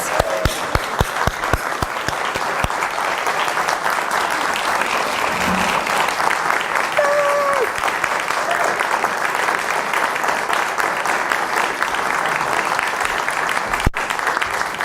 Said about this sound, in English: Give him a big round of applause, you guys.